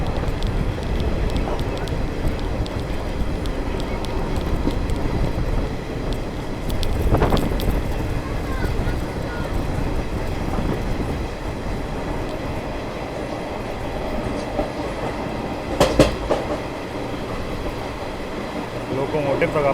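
A passenger train rolls along the rails through a sharp curve on a special run from Lakhimpur to New Delhi, a steady rumble with rhythmic wheel clatter and wind buffeting the microphone, continuous and close.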